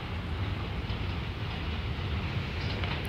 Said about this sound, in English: We got a D train over there.